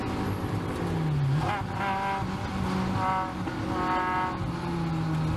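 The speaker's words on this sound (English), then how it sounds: "Formula Ford gets engine trouble. You can actually hear it." Formula Ford race car suffering engine trouble, its uneven, sputtering engine note loud and close with shifting pitch, set against steady racetrack noise.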